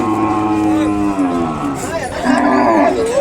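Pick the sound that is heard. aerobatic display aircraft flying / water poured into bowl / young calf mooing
young calf mooing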